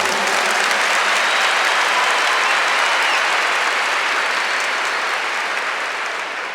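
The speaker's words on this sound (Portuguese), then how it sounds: "aplauda o Senhor por isso." A large audience at a Catholic religious talk gives steady, dense applause, a continuous wash of many hands clapping at even loudness that eases slightly toward the end.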